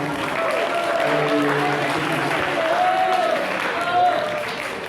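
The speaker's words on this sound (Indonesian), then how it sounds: "Ya, kasih aplaus dulu untuk Tuan." Audience applause in an Indonesian school classroom session, a steady wash of clapping lasting throughout, with voices and chatter mixed in.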